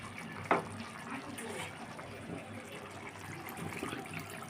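Water poured into a pot of chicken cooked with chana dal curry, giving a steady close gushing wash with a brief splash at the start.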